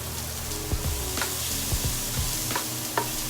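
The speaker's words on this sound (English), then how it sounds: "So I'm just stir frying a little bit of the onion." Onions sizzle steadily as they are stir-fried in a hot pan, with occasional scraping and stirring knocks from a utensil moving them around.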